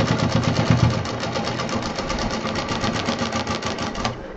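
Sewing machine stitching the pocket of a large homemade backpack, a fast steady run of needle strokes close up, continuing evenly for several seconds before stopping.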